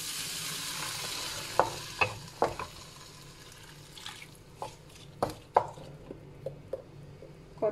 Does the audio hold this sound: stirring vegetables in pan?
yes